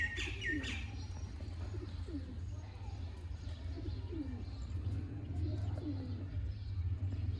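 Sialkoti pigeons on a rooftop coo softly in repeated low phrases, with a few higher chirps early on, under a steady hum of background noise.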